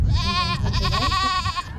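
A goat bleats loudly and close by during an outdoor goat yoga class on a park lawn at Epic Central Park in Grand Prairie, one long wavering cry lasting nearly two seconds.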